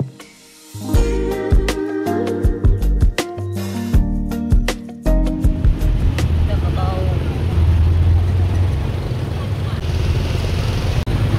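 Road traffic during the New Year holiday in Laos, near a large market. Tonal, music-like sounds come first, then a steady, close wash of car engines and road noise holds until the end.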